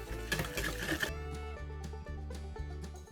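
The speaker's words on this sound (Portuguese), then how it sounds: "Eu vou terminar de bater essa massa na batedeira planetária." A planetary stand mixer beats sweet bread dough made with milk powder and vanilla, its motor humming steadily with a regular thumping pulse as the dough turns, close and alone.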